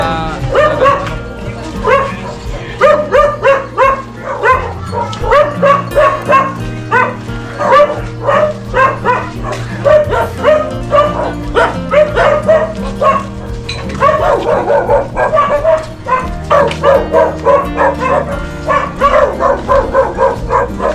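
Several dogs bark repeatedly in a busy neighborhood, loud sharp yaps and bow-wows overlapping in a steady stream throughout, with some faint background voices.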